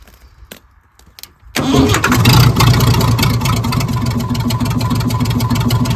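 Engine left abandoned for 18 years, started on ether: a few faint clicks and cranking attempts, then it suddenly catches and runs loud and steady at a rough, fast idle held on a cable-tie hand throttle.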